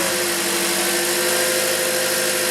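A car or truck engine idles steadily with a constant hum and faint vibration after starting, running on an alternator suspected of failing and a battery that has been charging, with no talk over it.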